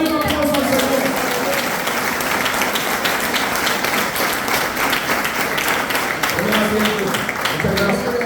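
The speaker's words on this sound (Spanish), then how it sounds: "Dale un aplauso al Señor." Applause from a church congregation at a Spanish-language conference sermon, loud and sustained dense clapping that fills the whole moment, with a voice speaking over it near the end.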